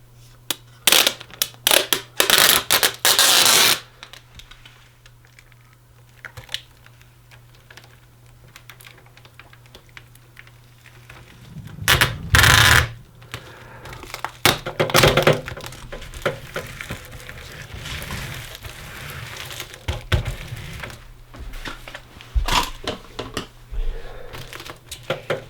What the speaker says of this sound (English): We'll get a piece of tape and tape this seam.